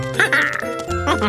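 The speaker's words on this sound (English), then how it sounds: "Quack, quack! Quack, quack!" A loud cartoon duck quacks several times in quick succession, nasal and close, standing alone without talk, from a children's police cartoon.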